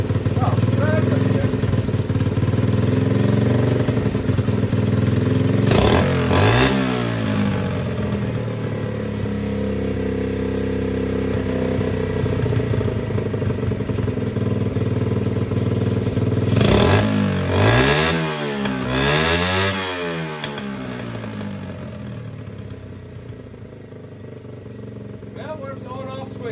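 A Honda XL70 motorcycle engine idles with a steady small-engine putter, broken by two sets of rising and falling revs as the idle is adjusted, with someone talking throughout.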